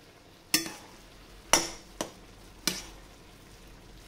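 Stirring mashed potato seasoned with nutmeg and pepper: four sharp knocks of a utensil against the pot, spaced about a second apart, with faint scraping between them and no talk.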